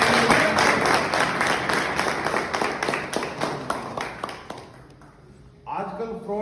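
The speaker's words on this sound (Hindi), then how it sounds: "तो जोरदार ताली।" Loud applause from an audience at a motivational talk, dense clapping that thins and fades over several seconds before a voice starts speaking.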